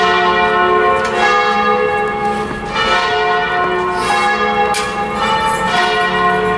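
Church bells ring continuously, a dense wash of overlapping tolls with rich ringing overtones, loud and sustained throughout.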